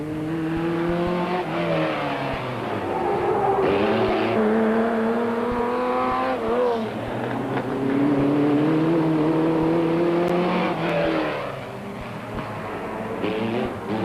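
Off-road rally race cars, including a Porsche-powered Raceco, compete in the 1991 Roof of Africa rally. Loud engines rev up and down repeatedly as gears change, with a brief lull near the end and no talk.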